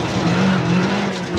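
A WRC rally car brakes hard on a gravel Finland stage in the WRC 6 game, engine note dropping as tires skid and scrub for a second or so, loud and close, with no talk.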